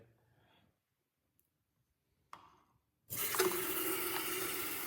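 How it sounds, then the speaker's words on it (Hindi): A kitchen tap is turned on after a couple of faint clicks, and water runs steadily into a container at night in a home, a close, continuous gushing that lasts to the end. "पानी भरता हूँ पहले"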